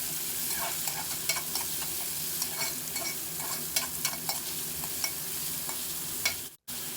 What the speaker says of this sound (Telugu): ఇప్పుడు ఆనియన్స్ని కూడా వేసి ఒక్కసారి ఇలా కలుపుకొని